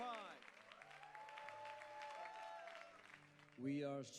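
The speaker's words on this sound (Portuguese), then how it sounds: "Mais uma salva de palmas, meus irmãos e irmãs." Faint, continuous applause from a church congregation plays under a voice, and a louder spoken burst comes in near the end.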